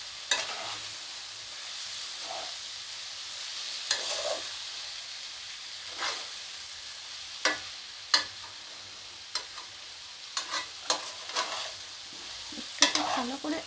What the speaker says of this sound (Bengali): একটু ভালো করে একটু করে নাড়তে হবে।